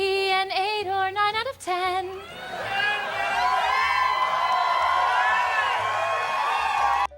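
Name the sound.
audience applause and cheering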